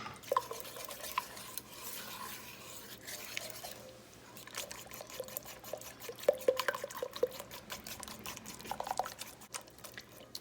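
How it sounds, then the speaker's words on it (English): A small whisk stirs melting cheese into Alfredo sauce in a pot, giving soft, irregular scraping and clinking with liquid sloshing, brief gaps between bursts and livelier strokes toward the end. "I have this little whisk I like to use."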